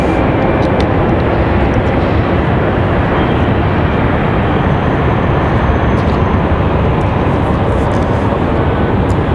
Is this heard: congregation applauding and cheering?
no